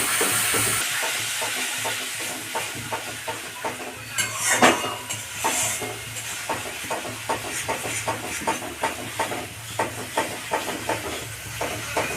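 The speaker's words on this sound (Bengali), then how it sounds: "মশলা কষানো হয়ে গেছে" Spice masala sizzles and hisses steadily in a hot pan while being sautéed, with a run of soft rhythmic stirring scrapes throughout and a brief louder burst of steam near the middle, no voices.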